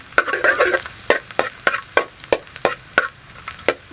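Ingredients being stirred and tossed in a hot frying pan, with a series of sharp, evenly spaced spatula scrapes and clacks against the pan over a soft sizzle, close and fairly loud.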